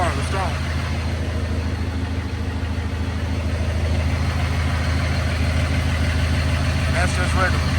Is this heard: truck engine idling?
yes